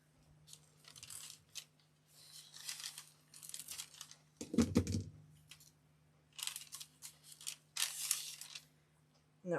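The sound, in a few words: cutting thin pieces of paint skin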